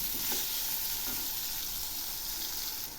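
Salt and turmeric are stirred in a frying pan for a khesari greens and turnip dish, giving a steady soft sizzle with a few scraping strokes, close and fairly quiet, no talk.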